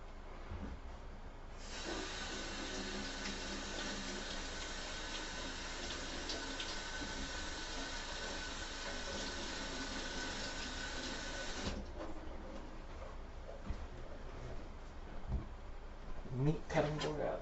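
Lemons being washed under a running kitchen tap to strip their wax coating, a steady low hiss of flowing water lasting about ten seconds before it cuts off, followed by quieter handling noises.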